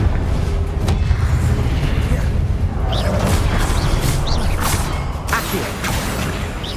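A Confringo explosive blasting spell cast in Hogwarts Legacy: a deep, sustained rumbling boom with rushing, whooshing bursts and mechanical creaks layered over it, loud and close.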